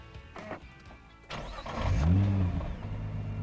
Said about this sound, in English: Now, I just wanted to share with you how agricultural this GTR can sound, especially when you start it.